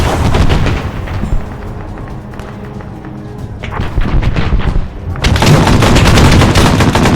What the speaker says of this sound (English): we are taking fire from something